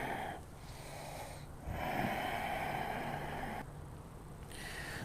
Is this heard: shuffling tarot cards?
no